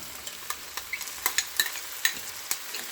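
Chopped peppers, carrots and onion sizzling in a pan while being stirred, with a soft frying hiss punctuated by quick, irregular utensil scrapes and clicks.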